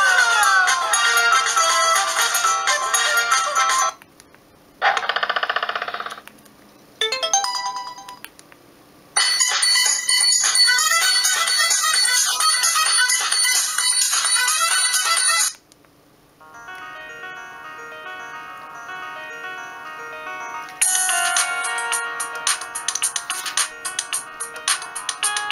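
Polyphonic ringtones play from a Sony Ericsson Z710i flip phone: bright, tinny synthesized melodies in several separate bursts with short silent gaps between them, heard close and alone with no talking.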